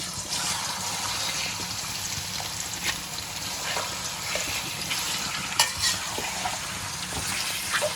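Chicken pieces mixed with liver and gizzard fry in oil in a kadai, a steady dense sizzle with occasional stirring scrapes and clinks, close and continuous throughout.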